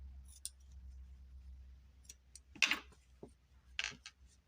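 Small scissors snip crochet yarn on a knitted Mickey Mouse Christmas ornament, several crisp close-up clicks and cuts spaced irregularly over a quiet low hum.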